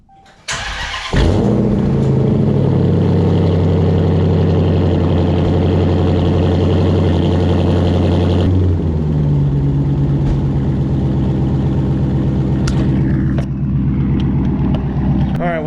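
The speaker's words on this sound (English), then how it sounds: "we're gonna get the car started up, let it warm up just a hair" Dodge Challenger V8 cranks and catches with a loud rev, then settles into a steady, close, rumbling idle as it warms up before a trip to the car wash.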